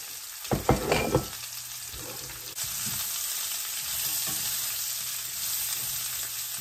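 Sliced mushrooms and a medium Vidalia onion hit a hot pan, a few sharp clatters as they're stirred in, then settling into a steady close sizzle with no voices.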